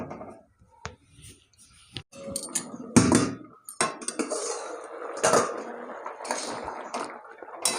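Clanking metal cookware as a lid goes onto a pot of dal simmering with potatoes and bean seeds, a string of sharp clinks and knocks with a louder clatter near the middle, separated by short quiet gaps.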